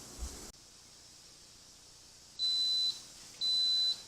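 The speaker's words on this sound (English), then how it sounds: "And there's our timer on the Instant Pot." An Instant Pot timer gives two high, thin electronic beeps, each lasting about half a second, spaced about a second apart. They sound clear and close in an otherwise quiet kitchen.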